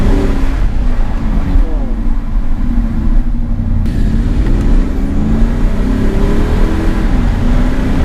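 A 2017 Audi SQ7 SUV with a high-torque engine rumbles and revs close by, its deep sound echoing off surrounding walls, with a person talking over it.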